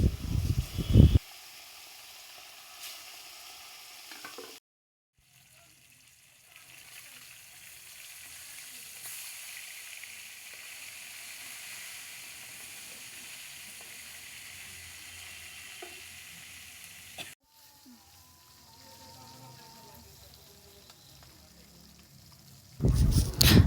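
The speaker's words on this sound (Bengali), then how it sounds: "তেলটা গরম হয়ে গেছে, এবার আমি মাছগুলো একে একে সব দিয়ে দিব।" Tilapia fish sizzle and fry in hot oil in a home kitchen, a steady bubbling hiss that runs for several seconds between louder handling noises at the start and end.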